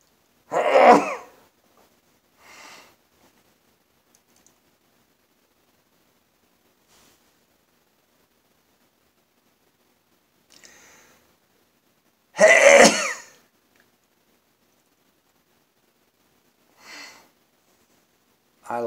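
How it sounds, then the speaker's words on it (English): A person's sneezing fit: two strong, explosive sneezes about ten seconds apart, each followed by fainter sniffs and breaths, with long quiet gaps between. "I'm gonna sneeze so many times."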